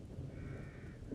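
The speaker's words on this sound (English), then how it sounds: "birds." Crows caw in a horror video game, The Evil Within, heard faintly through a low steady ambient drone, with no talking.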